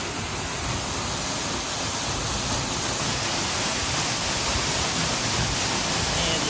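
Water pours continuously out of a 1700-foot pipeline onto a farm, a steady broadband rushing that stays close and even throughout, with no voices.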